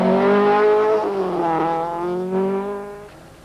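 Volkswagen rally car from the 1991 Volkswagen International Rally, fitted with a new German-designed gearbox, driving past with a loud, steady engine drone that rises and dips in pitch as it revs, close and continuous with no talk.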